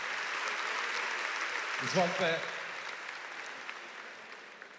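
Audience applause fills a concert hall at the opening of a show in Sava Centar, a steady wash of clapping throughout with a brief spoken word from a man on stage partway through.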